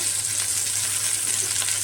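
Ridge gourd fritters sizzle steadily in hot oil, a close, even crackle holding at the same level throughout, with no voices.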